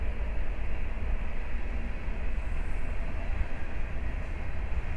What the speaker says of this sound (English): thank God that train is by